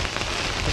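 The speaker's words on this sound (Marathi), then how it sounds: "समोरून पाऊस चालू आहे" Steady rain falls across an open fishing spot, a dense, even hiss that stays constant from start to finish with no voices.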